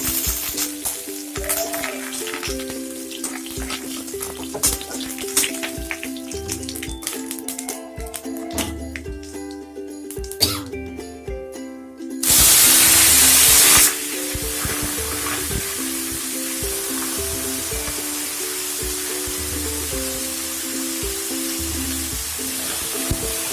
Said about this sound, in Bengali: এবার একটু নাড়াচাড়া করে নিয়ে কোচানো লাল শাকটা দিয়ে দেবো।